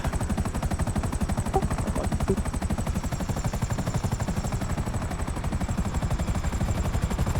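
Helicopter rotor drone with rapid machine-gun fire in a GTA V game session, a steady dense pulsing that runs continuously at even loudness without any voices.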